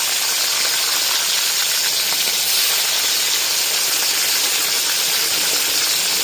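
Fish frying in hot oil gives a steady, dense, loud hiss that runs unbroken from start to finish, close by and alone, with no talking.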